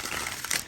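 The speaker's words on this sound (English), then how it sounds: "I'm gonna shuffle one more time." Tarot cards riffle and shuffle in quick, faint papery flutters, a close, soft crackling burst lasting under a second with no voices.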